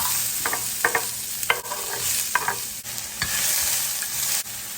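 Garlic and onions frying in a pan over medium-high heat for vegan pad thai, a loud steady sizzle punctuated by several stirring scrapes, close up with no talking.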